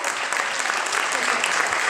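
A school spelling contest audience clapping loudly for three contestants, a thick, continuous burst of applause filling the short stretch at a steady, strong level.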